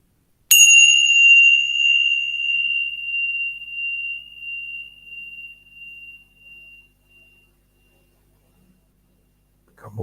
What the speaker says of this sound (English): Wait for the last bell.